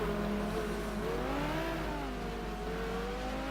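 A race car in a sim racing game at Phakisa circuit, engine whining and shifting pitch as it rises and falls through revs while the car runs off track, continuous and fairly loud with no talk.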